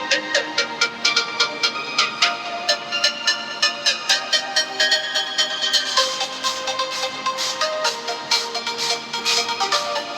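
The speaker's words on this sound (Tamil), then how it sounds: "ஸ்பீக்கர் எப்படி இருக்கு அப்படின்றத செக் பண்ணுங்க." A melodic ringtone plays through the single mono speaker of a vivo T2 5G smartphone, a steady repeating pattern of bright tones that stays fairly loud and continuous throughout.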